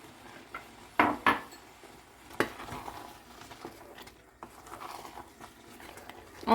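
A spoon stirring a thickening flour mixture in a pan for cuscuz paulista with sardines, giving soft scraping and a few sharp clinks of utensil against pan, intermittent and close.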